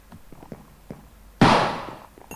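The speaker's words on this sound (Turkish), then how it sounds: "Sen kime silah sıkıyorsun sen?" A single sharp gunshot in the Minecraft Hexxit mod game, loud and close, its burst decaying over about a second, with faint clicks and soft sounds before it.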